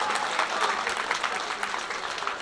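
Audience applause at a college gathering welcoming the Education Minister at Gobardanga Hindu College: dense, sustained clapping from a crowd that fills the whole stretch at steady volume.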